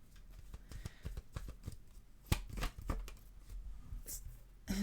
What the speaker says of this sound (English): Let me go ahead and shuffle